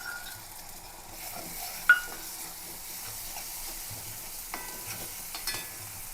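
Five to eight prawns frying in hot oil in a pan, giving a quiet, steady sizzle with a faint clink or two of a utensil and no talking.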